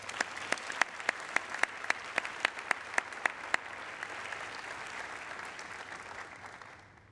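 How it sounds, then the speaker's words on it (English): Broad audience applause in a large hall at a university presidential inauguration, sustained and fairly distant, with a run of sharp, evenly spaced claps near the front during the first half before the sound fades out. "Let's give them a round of applause as well."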